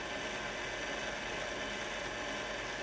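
A stand mixer with a paddle attachment running on high while it beats thick nougat sugar syrup, giving a steady, even mechanical whir and grind that goes on without a break.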